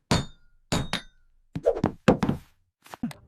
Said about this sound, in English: I am hammering the nail into the wall.